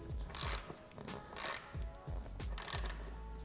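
A saddle clamp on an electric trike is retightened with a tool, giving three short bursts of close, quiet ratcheting clicks separated by pauses.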